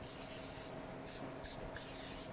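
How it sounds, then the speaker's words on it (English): Pam cooking spray hisses onto a baking pan in several short bursts, close and fairly quiet, with brief pauses between sprays. "We're just gonna spray these guys down."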